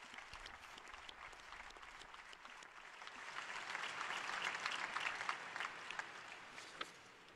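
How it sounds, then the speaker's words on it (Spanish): A large crowd of pilgrims at the papal general audience applauds the new Blessed; the clapping is faint and distant, swelling in the middle and tapering off. "Un aplauso al nuevo Beato."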